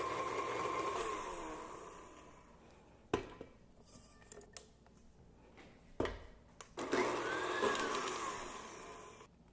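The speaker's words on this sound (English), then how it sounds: "I'm going to mix it a little bit first and then scrape down the bottom of the bowl" An electric hand mixer whirs through heavy whipping cream and cream cheese in a bowl, running steadily at first, then pausing for a few clunks and scrapes before whirring again.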